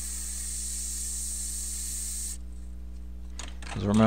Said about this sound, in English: Now spray some of the cleaner in there.